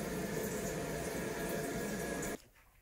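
Water rushes into a toilet tank after a handheld bidet install, a steady close hiss and gurgle that stops abruptly near the end and leaves only faint quiet.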